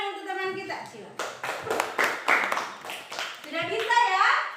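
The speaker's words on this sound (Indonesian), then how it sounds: "Tepuk tangan untuk teman kita, silakan." A classroom of children clapping for a classmate, the claps quick and scattered at moderate loudness, with kids' voices talking before and after.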